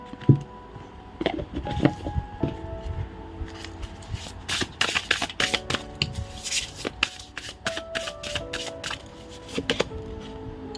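Tarot cards being shuffled by hand, giving quick papery riffles and soft slaps in uneven bursts, close and fairly quiet, with no talking.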